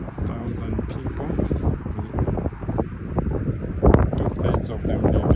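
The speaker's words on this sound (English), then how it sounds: "It's windy." Strong wind gusting outside Hallgrimskirkja church in Reykjavík, Iceland, roaring and buffeting the microphone continuously, with a voice talking over it.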